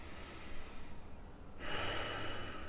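A person slowly blows out a long breath during a relaxation exercise, a soft close airy rush that swells and continues, fairly faint, with no talking.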